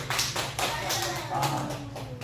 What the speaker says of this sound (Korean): 우리 박수 우리 하은 박수